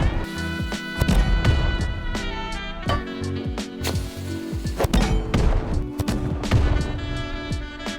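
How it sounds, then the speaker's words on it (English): Boat-mounted cannons fire in the survival game Rust, a rapid series of heavy booming thumps and cracks at close range, irregularly spaced over a humming background with no talk. "You can test this by loading the cannons and shooting them."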